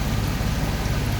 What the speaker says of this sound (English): It is dumping buckets of rain today.